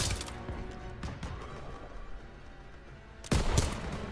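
Gunfire in the World War II shooter game Call of Duty WWII: scattered loud shots and bursts, with a heavier volley near the end over a continuous battlefield din.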